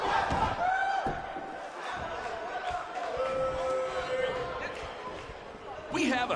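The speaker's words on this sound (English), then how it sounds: "We have a sold-out, record-setting crowd here for BCW tonight." Sold-out arena crowd roaring in WWE 2K19, a steady wash of cheering and shouting that holds loud throughout, with a brief surge near the end.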